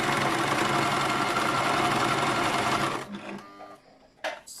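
A sewing machine stitches a braided turban hat with a steady, loud whirring run for about three seconds, then stops abruptly, leaving faint handling clicks and rustles.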